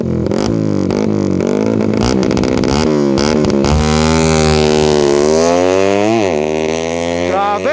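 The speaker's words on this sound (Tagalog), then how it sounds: "Lakas naman pala ng motor ni Sir Caloy." A motorcycle engine revs loudly and steadily, its pitch climbing and dipping through several hard throttle pushes, close by.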